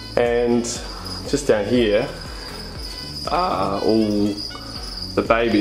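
Crickets in a cricket farm tub holding thousands of insects chirp as a steady, high continuous trill beneath a man's close, clearly audible talking.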